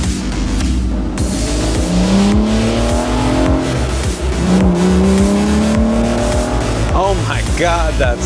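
A 6-liter V12 car with a manual gearbox revs hard on the road, loud rising engine pulls with gear changes and some tire squeal, while people exclaim over it.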